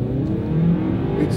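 A Ford Maverick all-wheel-drive pickup truck accelerating hard from a standstill in a drag race, its engine droning and rising steadily in a close, moderately loud pull.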